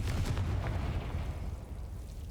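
The Confringo spell in Hogwarts Legacy going off as a fiery blast: a loud, dense burst that rumbles and crackles, then slowly fades as a low roar over about two seconds.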